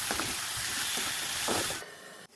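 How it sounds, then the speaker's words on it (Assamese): Tomatoes go into vegetables already frying in a pan, producing a close, even sizzle with a few stirring scrapes before it cuts off abruptly near the end. "ইয়াত অলপ এতিয়া মই বিলাহীখিনি এড কৰিম।"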